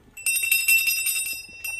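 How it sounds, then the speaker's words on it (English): A small handheld bell rings in a quick, bright jingling flurry lasting about a second, followed by a shorter tinkle, close and fairly soft with no talking. "I have to do the bell."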